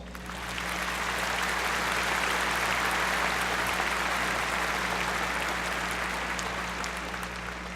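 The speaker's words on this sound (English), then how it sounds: "Please recognize them with a round of applause." Sustained applause from a large crowd at a 2017 college commencement ceremony, steady and broad throughout, with a low electrical hum underneath.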